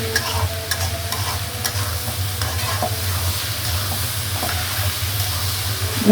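Chillies fry noisily in a pan for a Bengali dried fish bhuna, a steady close sizzle with repeated scraping stir strokes throughout and no voices.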